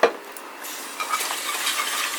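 A dirty cooking pot is scrubbed and rinsed, giving a close, continuous watery hiss with light scraping and clinks after a brief sharp knock at the start.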